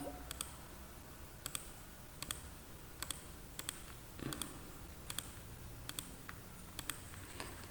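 Mouse clicks on a computer while working in SPSS statistical software, a dozen or so sharp, close, isolated clicks spaced irregularly over a faint steady room hum, with no talking.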